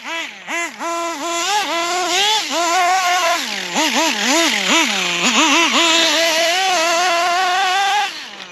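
A Hobao 10SC nitro RC truck engine runs loud and close, its buzzing two-stroke note swooping up and down through repeated throttle blips over about eight seconds, with no talking.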